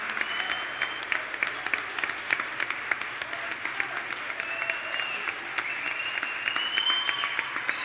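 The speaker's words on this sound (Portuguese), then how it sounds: "Aplauda com toda a força o Senhor da glória." Congregation at a church congress applauding, steady crowd clapping with some sharper individual claps and faint voices and cheers mixed in, filling the room for several seconds.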